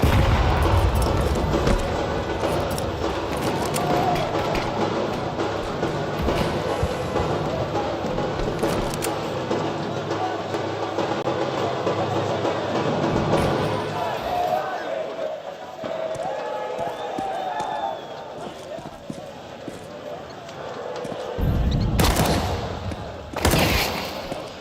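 Gunfire from the Counter-Strike 2 video game, including pistol shots, crackles in quick bursts and scattered single shots beneath continuous tournament commentary. The shots are moderately loud, with a brief louder flurry near the end.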